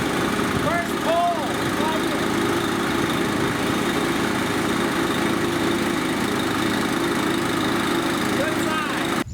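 A Quincy QT7.5 gas-powered air compressor engine runs steadily at a close, loud, constant drone, with brief voice sounds near the start and end.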